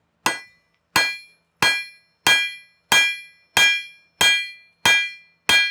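Blacksmith's hammer striking hot tool steel on an anvil while forging a dagger, nine evenly spaced ringing clangs about two-thirds of a second apart, each decaying into silence.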